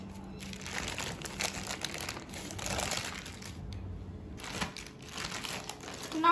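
Butter paper crinkles and crumples steadily as Kaju Katli cashew dough is set on it for rolling in a home kitchen, a close, continuous rustling with brief pauses and no talk.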